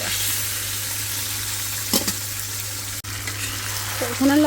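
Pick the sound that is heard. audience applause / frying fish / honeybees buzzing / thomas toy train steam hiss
frying fish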